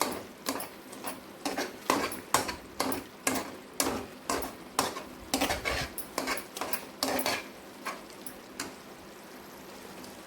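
A utensil repeatedly scrapes and taps in a pan while paneer burji curry is mashed, giving an even series of close, moderately loud clinks and scrapes with no talking.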